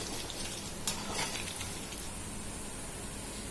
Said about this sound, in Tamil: இப்போ பாருங்க போண்டா அழகா வெந்துட்டு இருக்கு